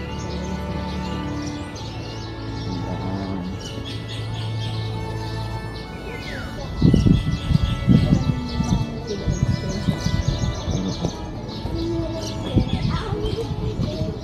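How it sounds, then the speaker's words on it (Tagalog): Birds chirp and tweet in the courtyard of the Cagsawa Ruins in Camalig, Philippines, while low rumbling movement and occasional thuds break in partway through. "Tignan mo, maraming ibon."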